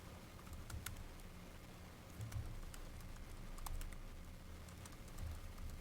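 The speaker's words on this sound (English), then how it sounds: "Now you need to enter in the password that you set for your PuTTY key." Keys tap on a computer keyboard as a password is entered on a Windows machine, a quiet, irregular patter of light clicks close by with no talk.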